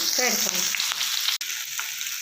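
Chopped tomatoes sizzle and fry in hot oil in a pan for a North Karnataka style potato palya, a steady close crackle with a brief stirring scrape partway through.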